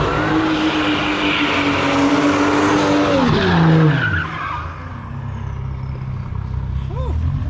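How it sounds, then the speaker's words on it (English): A BMW 1M does donuts, its tires squealing in a long sustained screech over steady engine noise that fades partway through, with a voice briefly heard near the end. "enjoy some donuts on the 1M"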